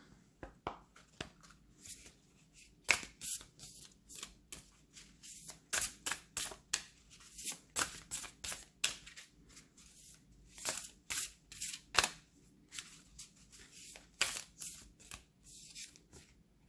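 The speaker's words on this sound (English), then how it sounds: "I'm also gonna pull a card from the Starseed Oracle." Starseed Oracle cards are shuffled in quick soft riffling bursts with brief pauses between them, close and quiet, with no talk.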